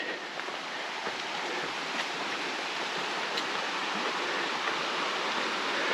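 Licklog Creek flowing steadily, a constant soft wash of running water with no voices and no breaks.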